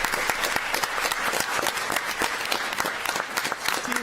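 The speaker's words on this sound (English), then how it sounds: "Let's applaud that." Audience at a city council meeting applauding a team's achievement, dense, steady clapping from many people filling the room, sustained throughout with distinct individual claps audible.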